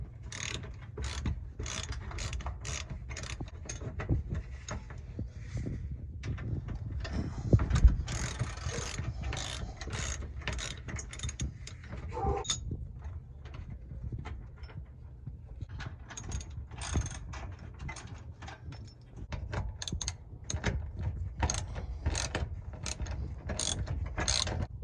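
A 3/8 ratchet clicks in quick, repeated bursts while conduit pieces are unbolted from a 1997 Rockwood Freedom pop-up camper. The rapid pawl ticking sits over a low, steady background rumble.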